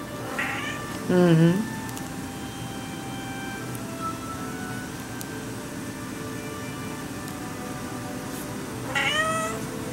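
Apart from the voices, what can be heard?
cat meowing while playing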